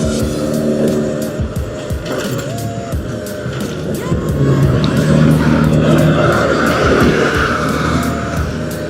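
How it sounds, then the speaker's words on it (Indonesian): Heavy vehicles and trucks pass steadily along a road, a continuous loud rumble of engines and tires with whooshing passes and occasional squeals, close by and without talk. "kayaknya banyak banget angkutan berat lewat sini deh, truk-truk gini kan"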